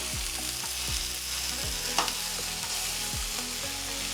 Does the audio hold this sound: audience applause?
no